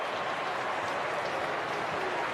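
Port Adelaide fans at an AFL game against Hawthorn give a steady, broad roar of cheering and applause. The crowd noise stays dense and even throughout, with no single voice standing out.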